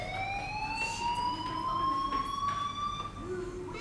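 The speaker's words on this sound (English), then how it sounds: "do you hear that fire alarm?" A fire alarm in the video game Life is Strange sounds as a continuous rising electronic siren tone with harmonics, moderately loud and steady, with faint background murmur underneath.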